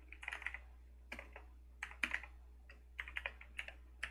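Keys clacking on a computer keyboard while code is typed, quiet, irregular bursts of keystrokes with short pauses between words, over a low steady hum.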